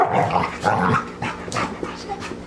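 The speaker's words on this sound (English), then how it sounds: "it would not be the Big Dog Command Room without some dogs barking" A dog barks and pants near the mic in a short burst, with a few yips and a low growl between breaths.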